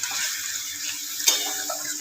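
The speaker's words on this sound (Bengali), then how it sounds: "মশলা জলটা দিয়ে দিই, মশলা জলটা একটু দিয়ে দিই।" Spiced water poured into a cooking pan, a steady hissing wash of liquid running continuously for two seconds with one brief splash near the end, alone without voices.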